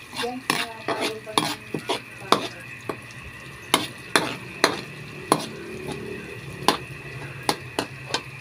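A spoon stirs a recado mixture in a cooking pan, giving sharp scraping clanks in a loose repeating rhythm over a faint sizzle, loud and close with no voices.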